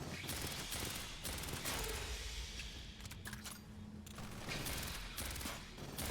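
Rapid bursts of automatic gunfire from the video game Aliens: Fireteam Elite, loud and repeated in clustered volleys with short gaps between them.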